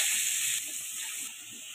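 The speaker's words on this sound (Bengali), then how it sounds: "আলুটা ভাজা হয়ে গেছে" Diced potato cubes fry in hot oil with a little salt and turmeric, giving a steady, close hiss of sizzling that holds level throughout the short stretch, with no talking.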